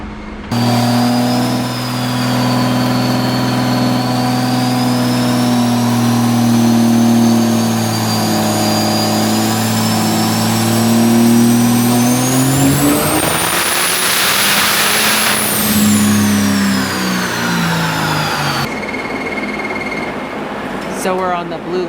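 A 6.7 Cummins diesel truck with 450% injectors and a big turbo housing revs hard on a dyno, engine tone climbing steadily to a loud peak with turbo whine before dropping off, voices talking over it.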